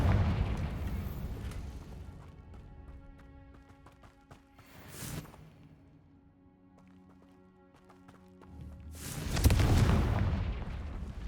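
A Confringo blasting spell goes off in Hogwarts Legacy, with two booming explosive bursts, one brief around the middle and a louder, longer blast near the end, amid a quieter game soundscape.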